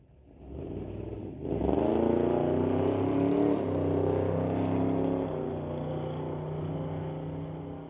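An NHRA Summit ET drag race car leaves the start line early, its engine swelling abruptly into a loud, sustained roar after about a second and then holding steady, with no talk.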